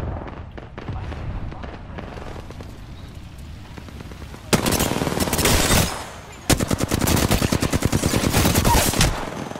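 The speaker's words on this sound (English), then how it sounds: "Watch out for those charge rifles." Rapid charge rifle and automatic gunfire rattles through an Apex Legends match, first as faint scattered shots, then two loud, dense bursts of rapid-fire cracks a few seconds long.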